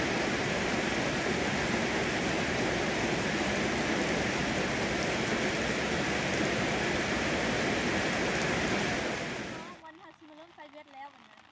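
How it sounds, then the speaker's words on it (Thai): Steady rain pours over rural rice fields in the Lao countryside, a loud dense hiss that holds for about ten seconds and then cuts away abruptly to quieter background. "ตอนนี้ฝนตกครับผมบรรยากาศฝนตกนะครับผม"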